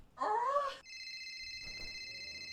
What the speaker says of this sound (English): Oh, you're getting a phone call.